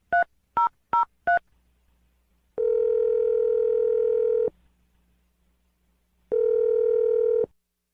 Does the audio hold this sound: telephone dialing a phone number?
yes